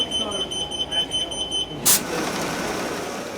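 Mail ballot envelope sorting machines run at an election office, giving a steady mechanical hum with a repeating high electronic beep and one sharp clatter near the middle.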